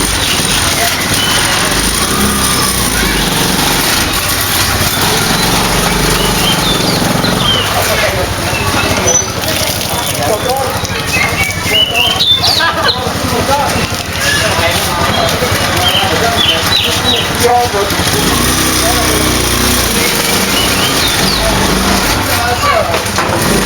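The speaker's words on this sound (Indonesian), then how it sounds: "kita lihat gerobak motor sodako sampah" A motorized garbage cart's engine runs continuously and loudly nearby, its rough broadband drone mixed with voices and street bustle.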